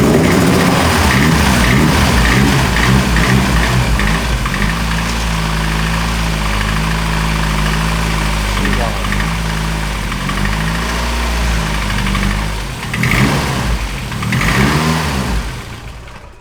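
Honda Civic, converted to rear-wheel drive, starting for the first time with a new exhaust: a loud, rough engine catches and settles into a lumpy idle, then gets a couple of sharper revs near the end, with no voices over it.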